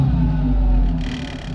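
Engine of a Mk6 VW Jetta with a fresh engine swap and an 02Q six-speed transmission, revving once in a quick, close, rumbling blip that swells and then drops back toward idle.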